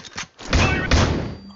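Grenade thrown in the Critical Ops shooter, a couple of dull thuds and a muffled blast with a short ringing tail, close and fairly loud.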